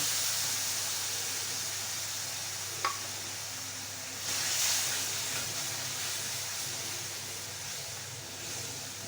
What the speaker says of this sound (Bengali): একটুখানি নারকেলের দুধ দিয়ে মশলাটা কষিয়ে নেব